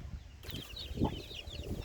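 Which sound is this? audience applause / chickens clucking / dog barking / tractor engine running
chickens clucking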